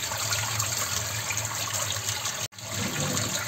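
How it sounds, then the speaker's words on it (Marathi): Rice being rinsed two or three times in clean water for masale bhat, giving a steady close splashing and swishing that breaks off for a moment near the end. "मी हा तांदूळ 2-3 वेळा वॉश करून घेणार आहे स्वच्छ पाण्यामध्ये"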